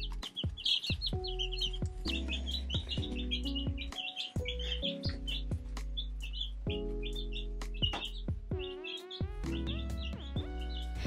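Two-week-old chicks chirp and peep continuously as they flock to food, a dense overlapping chorus of high, short tweets and calls close by.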